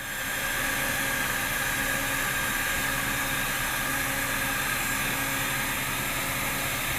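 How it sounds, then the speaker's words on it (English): A heat gun blows steadily while welding a rod into a linoleum floor seam, a constant close, loud airy roar with a faint motor hum and no variation or talking. "Pull the heat gun slowly toward yourself, keeping the bottom of the nozzle parallel to the floor."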